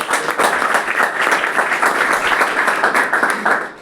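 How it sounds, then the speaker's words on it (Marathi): An audience claps in welcome for library staff, a dense burst of applause from a crowd in a hall that holds steady for a few seconds before tapering off. "दोन्हीही या कर्मचाऱ्यांचं आपण एकदा टाळ्या वाजून स्वागत करूया"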